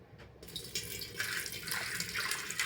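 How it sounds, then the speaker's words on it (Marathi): Water trickles gently off soaked grain as it is poured out by hand while making kurdaya, a steady soft splashing and dribbling that stays close and continuous throughout. "आता हे पाणी अलगद हाताने पाणी ओतून घेते"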